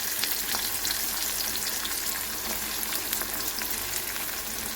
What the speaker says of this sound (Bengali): ওই মাছ ভাজার তেলের মধ্যে পেঁয়াজ কুচি দুটো ছোট সাইজের পেঁয়াজ কুচি তেলে দিয়ে দিলাম